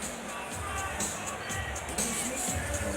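A sellout arena crowd at Oracle fills a Warriors home game against the Lakers with a steady roar and rhythmic chanting swells, loud and continuous throughout.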